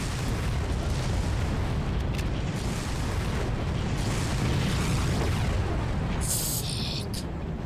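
Grenades explode in the Far Cry video game amid a loud, unbroken roar of blasts and rumbling combat noise that stays intense throughout.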